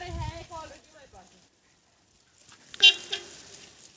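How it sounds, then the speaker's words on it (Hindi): A car horn honks from a departing car, a short loud blast near the end following voices talking and a quiet pause, with a second softer toot right after. "वहाँ पे हॉर्न मार रहा है गाड़ी से"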